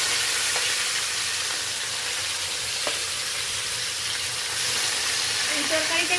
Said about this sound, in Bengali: এই পর্যায়ে আমি সমস্ত মাখানো মাছগুলো আস্তে আস্তে করে কড়াইতে দিয়ে দিচ্ছি